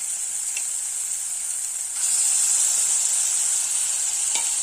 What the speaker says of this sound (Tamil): இஞ்சி பூண்டு பேஸ்ட் சேர்த்துடலாம்.